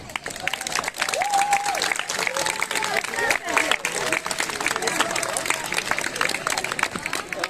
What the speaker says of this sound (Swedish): En sån här applåd som klappar igång oss.